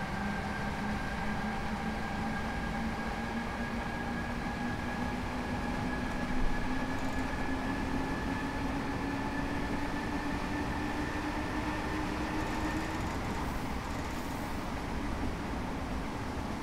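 Simulated S-Bahn electric train running through Cologne in Train Simulator 2020, a steady loud traction hum with slowly rising motor whine tones throughout, no voices.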